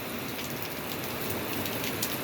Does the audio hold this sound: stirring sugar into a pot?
no